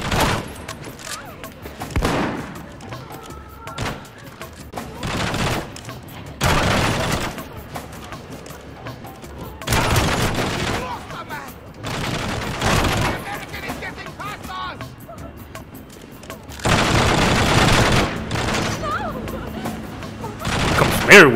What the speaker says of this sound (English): Oh, this goddamn gunfire.